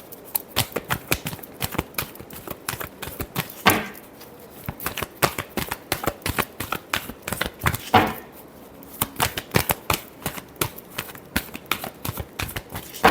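Tarot cards being shuffled, a long run of quick, crisp riffling taps close by, in uneven bursts with two brief pauses where a softer, smoother rush of cards slides together.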